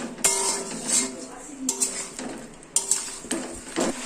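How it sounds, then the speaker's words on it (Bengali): A utensil stirs spices with turmeric in a cooking pan, giving repeated scraping clinks of metal against the pan at close range in a few short rounds. "একবার নাড়াচাড়া করার পর এই যে অল্প একটু হলুদ এটা আমি দিয়ে দেবো। এটাকে একটু নাড়াচাড়া করব।"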